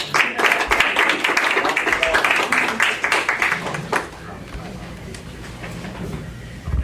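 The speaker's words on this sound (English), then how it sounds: "we'll give you a round of applause" Audience applause at a town board meeting in Rotterdam, a few seconds of steady clapping from a modest crowd in a meeting room, fading out as quiet room sound returns.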